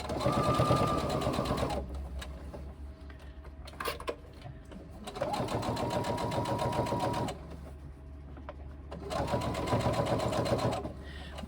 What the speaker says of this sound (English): we're going to do roughly 1/4 inch top stitching all the way around our top of our bag